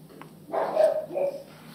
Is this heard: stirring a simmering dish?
no